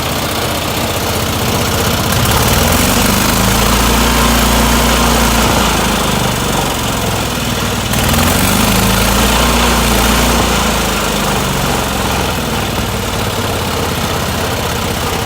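An old gasoline engine with a dirty carburetor and a worn motor runs nonstop up close, a loud rough drone with an uneven, knocking pulse and slight swells in pace.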